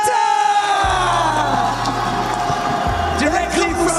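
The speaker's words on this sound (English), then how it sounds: "There is one team who needs some cheers" An esports crowd at a Call of Duty: Warzone watch party cheers and applauds for team Leviathan in a steady wash of noise, with an amplified announcer's voice ringing over it.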